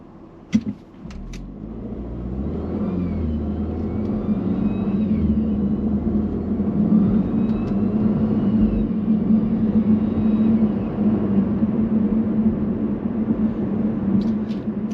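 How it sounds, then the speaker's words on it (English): Volvo S60/V60 fitted with an aftermarket intake, pulling away from a stoplight; the engine rumble builds gradually and holds steady from the cabin, fairly moderate in volume. "let's see what it sounds like just kind of driving normal, taking off from a stoplight."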